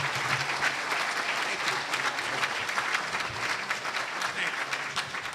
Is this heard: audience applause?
yes